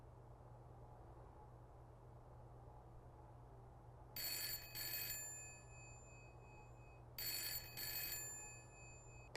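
Telephone bell rings in a Broken Sword: The Shadow of the Templars adventure game on PlayStation, two bursts of double rings, bright and clear over a low steady hum.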